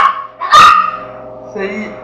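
Several dogs bark in a short close burst, one sharp loud bark standing out, with someone talking before and after.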